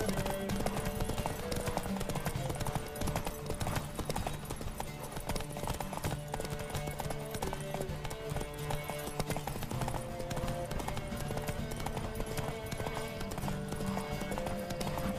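Horse hooves clip-clop in a steady galloping rhythm in the video game The Witcher 3, close and continuous over a dense bed of game music and ambience, with no talk.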